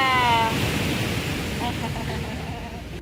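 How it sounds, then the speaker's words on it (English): The Lobe Waterfalls in Kribi, Cameroon, give a steady broadband roar of falling water, loud and close with wind buffeting, under a voice speaking briefly at the start. "And so here we are, the magnificent Lobby Waterfalls."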